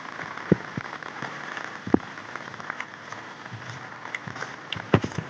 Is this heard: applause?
no